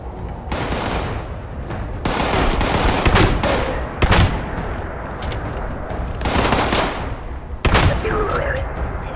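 Shotgun blasts ring out in the video game Fallout 76, several loud sharp reports spaced a second or two apart, each with a short booming tail, over a constant game background hum.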